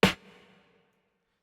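A single snare hit from a trailer drum section, sharp and bright, followed by a delayed reverb tail that swells slightly after the attack and fades out within about half a second, heard alone.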